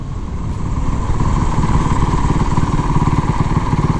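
Motorcycle engine revving steadily at the top of second gear as the rider stabs the front brake for a stoppie, a loud, close, continuous drone with a rough low rumble throughout.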